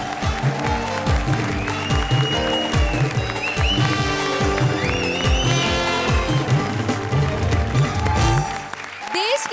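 Applause on a television comedy stage show, clapping mixed with loud rhythmic music and thumping beats, with crowd noise and voices throughout.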